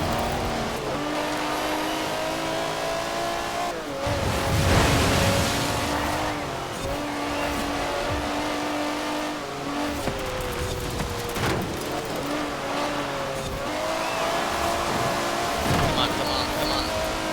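A BMW 850CSI engine driven flat out in Forza Horizon 4, revving hard with repeated rising gear pulls and brief shifts, loud and continuous with tire noise, while someone talks over it.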